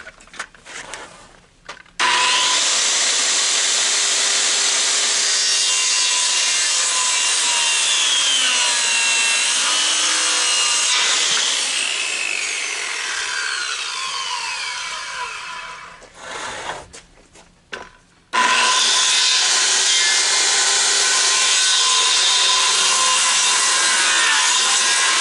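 Power saw cutting rough-cut white pine lumber into truss rafter parts, two long loud whining cuts separated by a brief lull with clatter, close and without talking.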